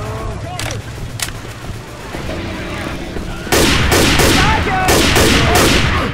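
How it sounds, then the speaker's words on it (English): Rapid gunfire from the Left 4 Dead 2 video game: dense bursts of shots and automatic fire, building from scattered cracks into a loud, continuous volley in the second half, with voices talking underneath. "Why in the hell y'all keep shooting me?"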